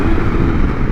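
Engine drone from a Honda CB750 Nighthawk motorcycle being ridden, a loud, steady rumble heard up close for about a second.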